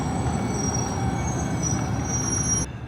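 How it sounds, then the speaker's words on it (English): A train running through the middle of downtown San Jose rumbles steadily past with a sustained high wheel squeal ringing over it, loud and close, ending abruptly near the close with no talk. "They've got a train that runs through the middle of town here."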